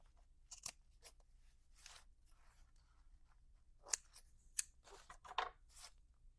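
Scissors trimming loose threads, giving a few quiet, sharp snips spaced across a hushed background.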